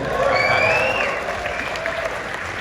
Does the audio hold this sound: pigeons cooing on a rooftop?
no